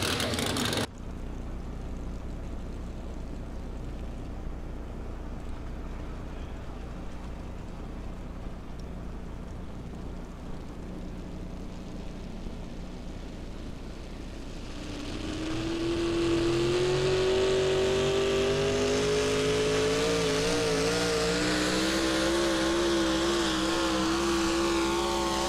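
Pulling truck Midnight Raider at a truck pull, heard first as a steady low idle that swells into a loud, rising engine roar with a strong whining tone, held and revving for several seconds.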